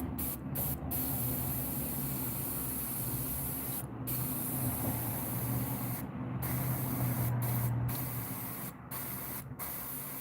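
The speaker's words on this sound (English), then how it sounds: "we just make sure that this is spraying correctly" An airbrush sprays paint at about 30 PSI onto realistic bluegill fish, a steady close hiss broken by several brief trigger stops. No one speaks.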